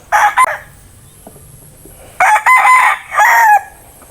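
A talisain brood stag rooster crows loudly and close by, two full cock-a-doodle-doo calls with a short clucking burst at the start and a quiet pause in between.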